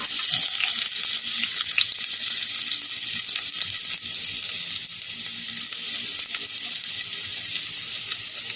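Garlic fries in a hot pan with a steady, bright hiss and crackle, continuous and close with small pops scattered throughout and no talk over it.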